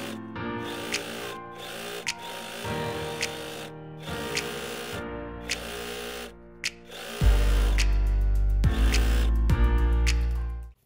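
Sewing machine stitching the edge seam of a fabric door draft stopper, in repeated bursts of mechanical whirring separated by short pauses, the final run longer and louder.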